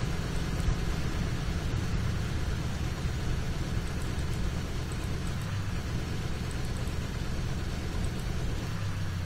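A Lockheed L-10E aircraft's engines run in the FS2004 flight simulator as a steady, loud, unbroken drone lasting the whole stretch.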